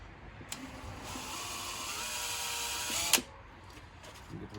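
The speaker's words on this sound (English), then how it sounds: "I'm going to start pre-drilling the holes I need." A power drill pre-drills screw holes in a car's interior panel, one sustained high whirring burst of about two seconds, close and moderately loud, with brief clicks before and after.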